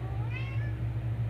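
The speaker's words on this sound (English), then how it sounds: "that is my cat." A house cat gives a single short meow, fairly faint, over a steady low background hum.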